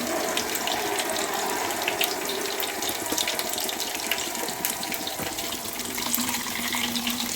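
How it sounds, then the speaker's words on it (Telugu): Water steadily poured into a pan of frying rice for a paneer biryani, a continuous close splashing rush that holds at an even level throughout with no talk. "దానికి సరిపడా వాటర్ పోసేయండి."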